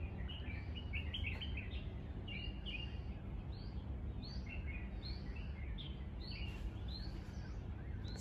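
Morning birds chirp and tweet in repeated short bursts, fairly distant and soft, over a steady low outdoor hum, with no talking.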